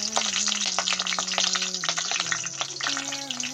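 Green chilies and mustard seeds frying in hot oil in a pan, a loud continuous close sizzle with crackles and stirring scrapes, no speech.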